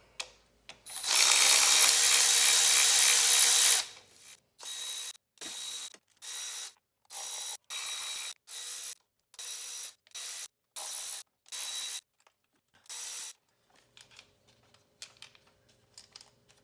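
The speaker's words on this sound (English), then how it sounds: "To speed things up, I'm going to use a cordless ratchet." Cordless ratchet spinning out valve cover bolts on a 1994 Mercedes C280 W202 with M104 engine: one long steady whir, then about ten short bursts of clicking ratchet action in an even rhythm, close and clear with no talk.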